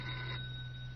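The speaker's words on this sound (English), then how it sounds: "I received a phone call in my quarters at the rectory." A telephone rings in a rectory room, an electronic tone with steady high overtones over a low hum, louder for the first moment and then fading to a softer sustained tone.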